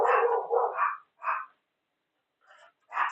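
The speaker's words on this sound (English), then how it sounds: "the dogs are all being barky" Several puppies bark in short, sharp bursts at close range, a cluster of quick yips followed by a pause and then a couple more scattered barks indoors.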